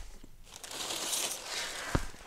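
Packing paper being handled and crumpled inside a box of Camaro body parts, a steady close rustle and crinkle with a sharp knock near the end.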